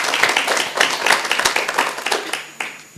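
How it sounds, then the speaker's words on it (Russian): Audience applause at a forum theatre performance, a dense burst of many hands clapping close and loud for about three seconds before thinning out, with no voices over it. "Давайте похлопаем."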